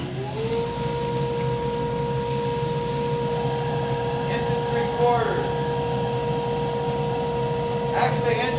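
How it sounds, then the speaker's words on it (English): A woodshop dust collector starts up and settles into a steady, droning whir that holds at moderate loudness. Faint knocks and shop sounds come and go over it. "dust collector"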